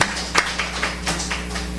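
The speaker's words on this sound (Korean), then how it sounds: "자, 박수." A church congregation claps together, a loose patter of hand claps with a few stronger beats, heard briefly over a low hum in the sanctuary.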